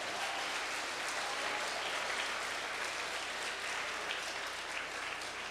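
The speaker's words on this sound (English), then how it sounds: "Let's give our round of applause for that awesome trophy" A round of applause fills the closing session of a running camp, an even, continuous crowd clapping heard from some distance at a steady level for several seconds.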